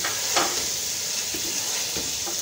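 Tomatoes frying with minced-meat keema in a pan, a steady close sizzle with occasional stirring scrapes and soft spatula knocks throughout, no talking.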